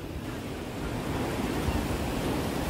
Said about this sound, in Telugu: బీచ్ షోరు సముద్రం అలలు శబ్దాలు అవి వినిపించగలవు